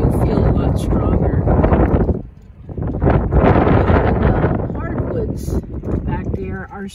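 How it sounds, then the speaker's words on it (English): Strong wind gusting at 45 to 60 mph blasts the microphone in loud, continuous roaring waves with a brief lull midway, while a person talks over it. "I'm getting 45 mile an hour winds, gusts."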